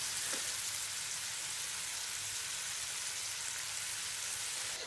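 Fifty millilitres of wine reducing in a hot pan for pasta carbonara makes a steady, fairly quiet hiss and sizzle that holds evenly throughout, with no voices.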